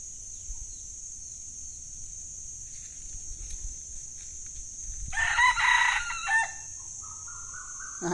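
A rooster crows loudly at home, a drawn-out cock-a-doodle-doo rising and falling in the middle of the clip, while softer chicken clucks and faint bird calls sit over a steady high insect-like hum.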